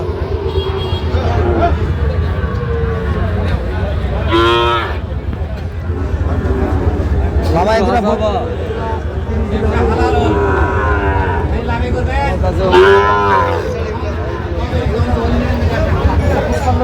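Shahiwal cattle at a busy Dhaka livestock market moo repeatedly in drawn-out calls, with several animals near and farther off. Steady crowd chatter and people talking run beneath.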